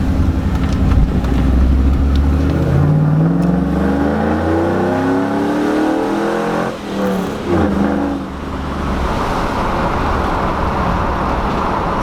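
A Chevrolet Silverado pickup truck on a test drive, its engine loud and close, revving and shifting through gears with rising and falling pitch over steady road noise, briefly easing off midway before pulling again.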